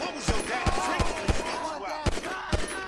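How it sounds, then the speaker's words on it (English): Pistol gunfire in the GTA 5 video game: about eight sharp, close single shots in an uneven rhythm over a steady background hum, loud and punchy, with no talking. "या पिस्टल से फुर फुर करा रहे मेरे से."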